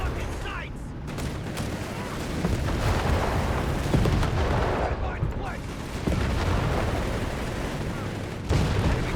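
Rapid bursts of gunfire and booming explosions from a Company of Heroes 3 battle, with a Panther tank firing amid machine gun fire, dense and continuous.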